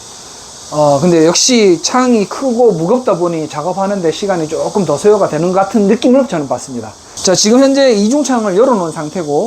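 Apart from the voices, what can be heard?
cicadas buzzing outside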